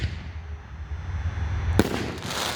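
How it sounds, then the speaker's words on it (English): A 6-inch Rings of Fire canister shell from America's Greatest Fireworks bursts with one sharp, loud crack. A low rumble comes before it, and a hissing, crackling wash trails after it outdoors. "Okay, we got 6-inch Rings of Fire by America's Greatest Fireworks."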